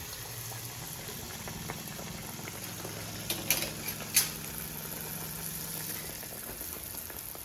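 Mangalore buns frying in very hot oil, a steady low bubbling hiss with a couple of faint clinks partway through and no voices.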